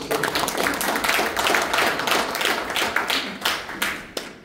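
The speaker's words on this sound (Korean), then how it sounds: "박수 한번 주세요." An audience at a Korean lecture on the healing industry claps in dense, loud applause that stays steady, then thins into a few scattered claps at the end.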